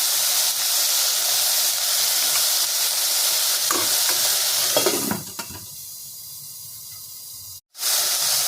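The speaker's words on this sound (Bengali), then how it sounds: "অনেকটা ভাজা ভাজা হয়ে এসছে" Okra sizzles and hisses steadily in a hot pan for Bangladeshi-style bhindi jhal, with stirring scrapes near the end as the frying quiets, then a brief dropout.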